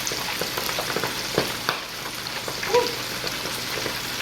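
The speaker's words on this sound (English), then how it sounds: "And then I'm gonna go ahead and drop it on down in that grease." Shrimp deep frying in hot grease in a deep fryer for po'boys, giving a steady, dense crackling sizzle with scattered pops throughout, close up and with no talking.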